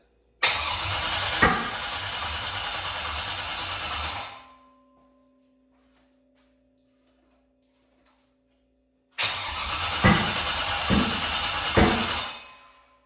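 A 6.0 LS V8, previously locked up, cranks loudly and close in two long bursts of several seconds each, separated by a stretch of near silence.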